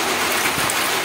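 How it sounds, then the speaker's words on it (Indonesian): Steady morning drizzle falls in an even, continuous hiss of light rain with soft patter on surfaces, filling the whole short stretch without pause and with no talking. "Pagi-pagi sudah hujan"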